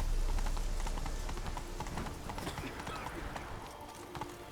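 The horse Roach gallops in The Witcher 3, a steady, close clip-clop of hooves at full pace, with no talking.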